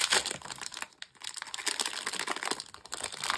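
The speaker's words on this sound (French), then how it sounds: "Encore une fois, désolé pour le bruit du papier." Paper crinkling and crumpling in close, busy bursts, with brief pauses between handfuls, and no voices.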